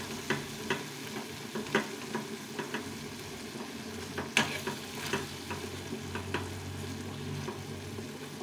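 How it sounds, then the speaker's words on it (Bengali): Cooked tomatoes being mashed in a pan for chutney, giving a series of soft, irregular scraping and squelching taps over a steady low sizzle, fairly close and moderately quiet, with no talking. "সুন্দর করে ম্যাশ করে এইভাবে চাটনি বানিয়ে নিতে হবে।"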